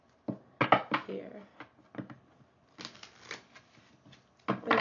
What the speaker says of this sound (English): Let's pull some cards